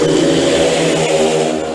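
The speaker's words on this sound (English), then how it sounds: "the revs about to go high" Speedway motorcycle engines revving loudly together at the start tapes, a dense sustained roar with steady high revs and no pauses, building tension before the green light.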